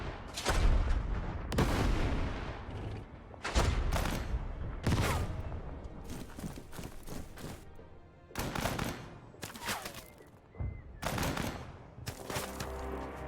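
In the WWII tactical game Total Tank Generals, aircraft dive-bomb a tank, producing a series of loud, heavy explosions and bursts of gunfire-like cracks at irregular intervals, with rumbling decay between the blasts.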